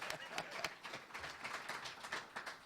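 Scattered hand-clapping from an audience at a summit talk, faint and somewhat distant, with irregular claps over a soft background murmur.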